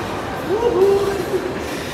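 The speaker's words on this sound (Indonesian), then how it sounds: "Kereta cepat, bro. 300 km per jam" The Jakarta-Bandung high-speed train runs at speed, a steady broadband rumble from inside the carriage, with a voice briefly heard over it.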